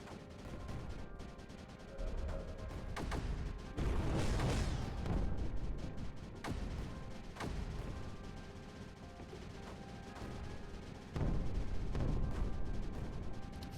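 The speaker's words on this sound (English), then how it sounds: "This stuff just starts exploding immediately." Repeated explosions from the strategy video game Creeper World 4: broad booming bursts around four, six and eleven seconds over a constant rumbling, crackling barrage of game effects that never lets up.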